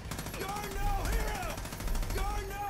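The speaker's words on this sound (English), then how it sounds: "we got the heavy machine guns this time, didn't we?" Heavy machine guns rattle in rapid steady bursts in Far Cry 5, continuous pounding fire with shifting whistling tones layered over it.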